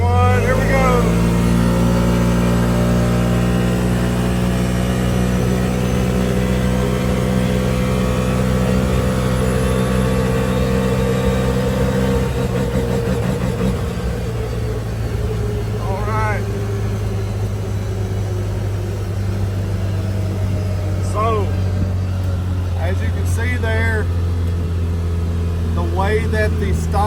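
A CFMOTO UFORCE 1000 UTV fitted with a stage 3 clutch kit accelerates hard, its engine droning loud and steady at high revs with a shifting tone midway, while people talk over it.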